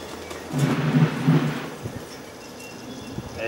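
Thunder effect from a Sega Dreamcast game played on a console set up outdoors in a garden, a low rumbling roll that swells for about a second and a half, then fades into a quieter background hum.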